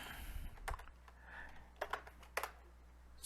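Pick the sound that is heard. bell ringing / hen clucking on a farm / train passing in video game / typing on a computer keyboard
typing on a computer keyboard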